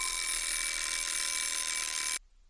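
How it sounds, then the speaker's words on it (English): A local church bell tower ringing the twelve o'clock hour in 1920, heard as a steady sustained metallic ringing with strong tonal overtones that cuts off abruptly near the end. "the bell tower of a local church ringing in the 12 o'clock hour could still be heard"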